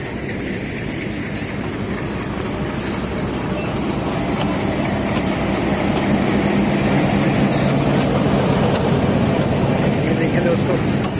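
A train rolls slowly over a railway bridge on New Margalla Avenue in Islamabad, a continuous loud rumble with faint clicking of wheels that swells slightly toward the end, while someone narrates over it.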